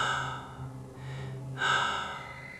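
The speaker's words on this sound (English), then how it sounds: "there was a sound. Breathing. It was wet, heavy, and labored." Heavy, wet, laboured breathing as a horror sound effect: slow, deep drawn breaths with a rough, rasping texture, close and fairly loud, with a short pause between inhale and exhale and no speech.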